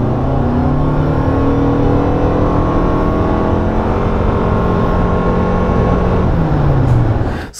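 Inside a new Toyota RAV4 at speed, the petrol engine drones steadily with a rising, strained tone while tyre roar fills the cabin, loud and continuous without any talking.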